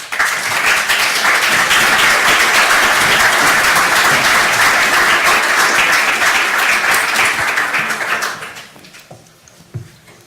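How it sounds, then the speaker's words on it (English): Warm round of applause from an academic conference audience welcoming keynote panelists, loud sustained clapping for about eight seconds that then quickly fades into a quiet room with a few scattered claps and small noises. "Please join me in giving them a warm round of applause."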